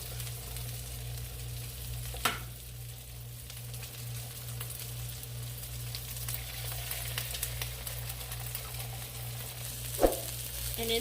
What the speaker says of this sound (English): So I'm going to cook my eggs since my sausages are almost done.